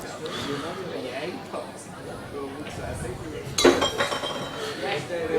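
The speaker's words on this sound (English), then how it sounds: "there's always one that spills an empty glass" Glass clinking in a busy venue during a darts or pool match, with a sharp, brighter clatter of glass around the middle, like a glass being knocked over, over continuous crowd chatter and talk.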